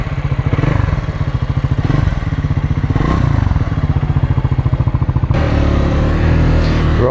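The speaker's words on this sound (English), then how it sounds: "I do like the sound of this scrambler." Royal Enfield-style scrambler motorcycle, an adventure bike in India, idling close up with a steady rapid thumping engine beat that blips up in revs near the end, loud and continuous with no talk.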